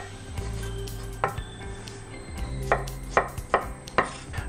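Potatoes being cut into small cubes on a kitchen board, with a run of sharp knife chops that speed up toward the end, close and crisp over a low background hum.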